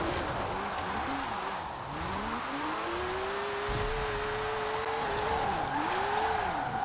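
A retro Porsche's engine note in the Forza Horizon 4 racing game, a steady tonal drone that sweeps up and down through gear changes, moderately loud and heard on its own.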